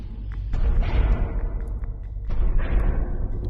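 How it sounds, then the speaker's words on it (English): A shuttle docks at a spaceship airlock in a video game, a deep rumbling mechanical swell with two heavy thuds and hissing whooshes, loud and close, with no talking. "That was the sound of a shuttle docking at our airlock."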